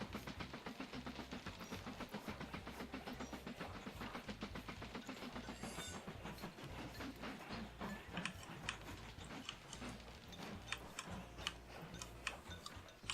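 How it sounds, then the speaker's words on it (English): A slow, powerful little timber train runs in the Mashinky video game with a steady rhythmic clickety-clack of wheels over rail joints and a low rumble beneath, continuous and even throughout. "We got our other timber train coming."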